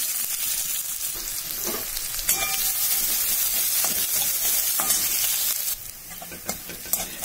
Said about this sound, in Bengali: এবার আমি পেঁয়াজটা দিয়ে দিলাম।